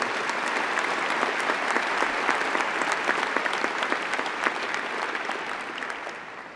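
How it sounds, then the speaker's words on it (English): A graduation-ceremony audience applauds the new graduates with steady, dense clapping that fills the hall throughout and tapers slightly toward the end. "Please join with me in a round of applause to the graduates."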